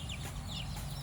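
Chickens cluck softly among their newly hatched chicks, with brief high chirps over a continuous low farmyard hum.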